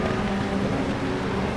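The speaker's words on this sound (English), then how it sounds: "I cannot hear over the car." A racing car engine during an exhibition race gives a loud, constant droning whine that fills the moment without a break.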